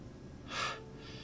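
A voice imitating panting during a tabletop role-playing session, a single short breathy exhale, close and fairly soft over quiet background.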